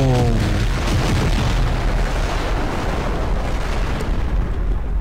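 Bombs dropped from a plane explode in Garry's Mod, a loud, heavy blast that rumbles and roars continuously, with a fading tonal whine at the start.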